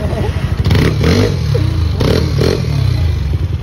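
A Yamaha NMAX 195cc scooter engine is revved with the throttle, loud close blips rising and falling several times over an idling putter.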